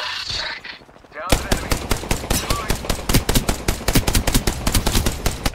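Rapid automatic gunfire in Apex Legends bursts in suddenly after a brief lull and keeps up as a steady, loud rattle of shots, with a player's voice talking over it.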